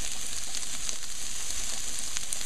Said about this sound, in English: Then I throw in the beef. I'm going to fry that beef up a little.